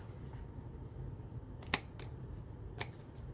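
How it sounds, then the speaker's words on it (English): Scissors snip a small piece of paper off a handmade mini journal, two or three crisp, quick cuts close by against a quiet background. "just grab your scissors and snip it off"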